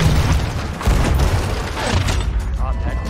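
Ship cannons firing in the pirate video game Sea of Thieves, heavy booming blasts and crashing impacts in quick succession over a dense, loud game soundscape.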